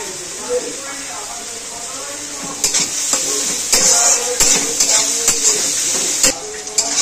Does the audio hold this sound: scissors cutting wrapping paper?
no